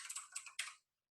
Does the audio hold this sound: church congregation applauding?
no